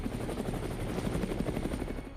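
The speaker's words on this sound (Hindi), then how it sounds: "अपाचे एक लड़ाकू हेलीकॉप्टर है" Apache attack helicopter roaring close and loud, its rotor thumping in a rapid steady pulse under a dense wash of engine and blade noise throughout.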